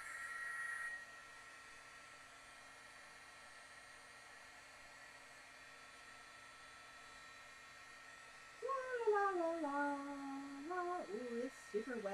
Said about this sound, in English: Let's hit it with the heat tool and just dry it off real quick.